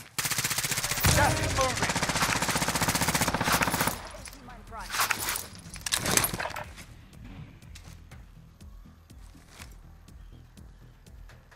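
Rapid automatic gunfire bursts loud and close in Call of Duty Warzone on Rebirth Island, a dense barrage for several seconds then scattered single shots and distant pops, with radio-style voices calling out over the battle.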